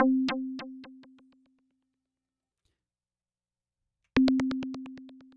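A looping Operator synth envelope in Ableton Live produces a buzzy, harmonic tone that strikes and fades over about a second and a half. After a silent gap it retriggers sharply, with no voices.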